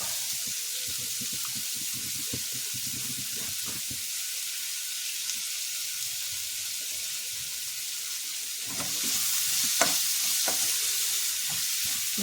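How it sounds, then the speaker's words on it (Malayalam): A quiet, steady sizzle of something sautéing in ghee and coconut oil in a pan, with occasional stirring scrapes and knocks, growing a bit louder near the end. "നന്നായിട്ടൊന്ന് വഴറ്റി കൊടുക്കുക"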